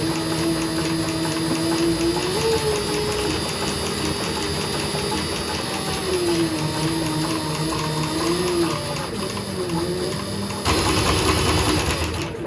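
A leather sewing machine runs at a steady, moderate pace, giving a continuous mechanical whir with rhythmic needle chatter, close and fairly loud with no voices.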